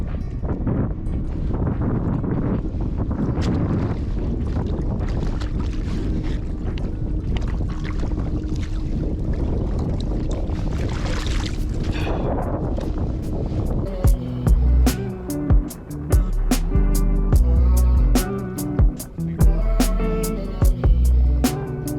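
A kayak cruising under a Bixpy Jet J2 electric motor while fishing for redfish: continuous rushing water and wind buffeting the microphone, with music-like tonal sounds joining partway through.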